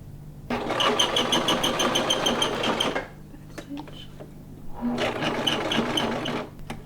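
A sewing machine stitches upcycled denim jeans in two steady, close whirring runs, with a short quiet pause between them during which a few faint clicks sound.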